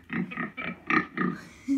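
Pig oinks played back by Google Assistant: a quick series of about six close, nasal grunting oinks in an uneven rhythm, with a brief sound at the end.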